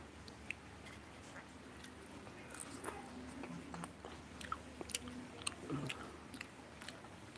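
Close, quiet chewing of jackfruit eaten with puffed rice, with soft crunchy bites and wet mastication sounds repeating irregularly against low background noise.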